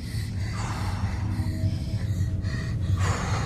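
A young woman gasping and breathing heavily in rapid, ragged pulls during a medical distress episode in a hospital, steady and close, with no talk over it.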